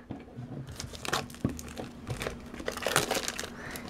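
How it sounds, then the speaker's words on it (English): A flathead screwdriver slicing open the packaging of a DianSheng FTO puzzle, heard close up as irregular crinkling, tearing and crunching with sharp clicks and rustles throughout. "I'm just using a flathead just because that's the only thing I have to cut it with"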